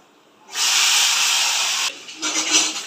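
Chickpeas and peanuts hitting hot oil in a home frying pan set off a loud, bright sizzle that starts abruptly, holds for over a second, then drops to a softer, uneven crackle.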